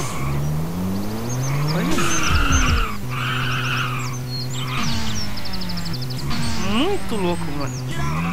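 A fast car in GTA San Andreas drives and skids, with engine tones rising and falling, tires squealing in bursts and game ambience all around. Someone talks excitedly over the action.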